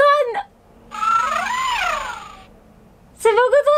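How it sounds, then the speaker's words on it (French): Purring Pygmy Puff plush toy from the Harry Potter studio gives a buzzy, warbling electronic purr for about a second and a half, close and clear, with someone speaking before and after. "Et c'est le boursouflet qui ronronne."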